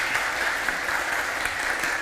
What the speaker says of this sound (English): Big round of applause for Rojin.